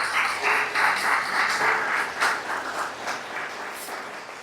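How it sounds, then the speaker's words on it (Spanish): Congregation applauding in a church service, a dense steady wash of clapping lasting several seconds and slowly thinning toward the end, with no voices over it. "Denle un fuerte aplauso al Señor."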